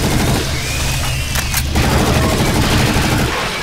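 Rapid, loud gunfire from Brutal Doom's Project Brutality mod, a continuous fusillade of close booming shots with heavy low-end rumble and a sharp burst in the middle, no voices.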